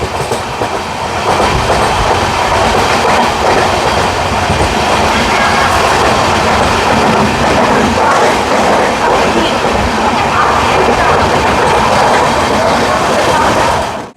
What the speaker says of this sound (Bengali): আমাদের গঙ্গাসাগর এক্সপ্রেস শিয়ালদা স্টেশন ছেড়ে এগিয়ে চলছে